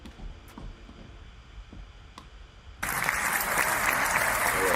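Loud, dense clapping starts abruptly after a few seconds of quiet background with faint tapping and keeps going steadily to the end, like a burst of applause.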